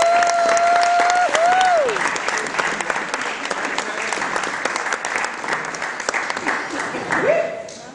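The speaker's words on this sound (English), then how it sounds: "Please put your hand together for Kevin John." A comedy club audience applauds and cheers loudly and steadily for a comedian at the Comedy Connection, with a voice carrying over the crowd noise throughout.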